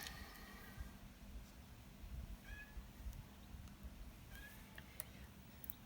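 A hungry cat meows indoors, a few faint short calls scattered across a quiet room with low background hiss.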